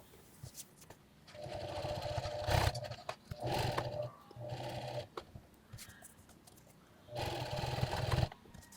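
Sewing machine stitching up the middle of a cell phone pouch, several short bursts of motor whir with gaps between, close and fairly quiet.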